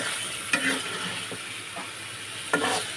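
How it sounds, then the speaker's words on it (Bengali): Eggs drop into a pan of sautéing potatoes and soya chunks, with two sharp bursts of sizzling over a steady fry hiss; no talking. "সয়াবিন আলু দুটোই কষানো শেষ এবার ডিমগুলো দিয়ে দিচ্ছি"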